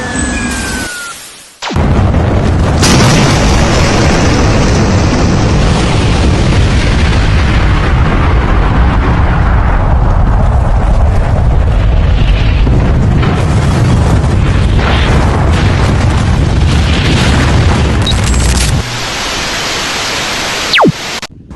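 A huge, sustained roaring rumble of an atomic bomb blast over Nagasaki fills the clip, loud and continuous for about seventeen seconds before cutting off abruptly.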